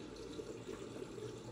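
A kitchen tap left running in someone else's home, a quiet steady stream of water splashing into a sink, faint and continuous with no talking.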